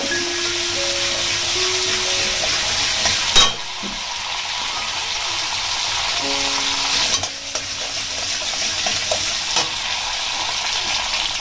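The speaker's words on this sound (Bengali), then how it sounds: "ছোট চামচের 1/2 চামচ কালো জিরে আর একটা শুকনো লঙ্কাকে আমি 2-8 করে নিয়েছি, নিয়ে দিয়ে দিলাম তেলের মধ্যে, 30 সেকেন্ড ভেজে নেব।" Black cumin seeds and a broken dried red chilli crackle in hot oil, a steady close sizzle with a sharp spoon knock partway through and faint tonal background hums.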